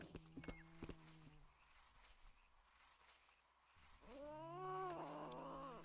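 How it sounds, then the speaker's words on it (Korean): A cat meows in a Korean horror video game set at a guard post, with a drawn-out, wavering yowl toward the end after quieter sounds earlier, heard close and moderately loud. "고양이"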